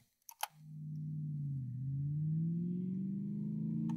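A Cobra motorcycle engine from a sound effects library: a few quick clicks come first, then a steady, close, droning engine note takes over and holds, dipping slightly before climbing in pitch and loudness toward the end.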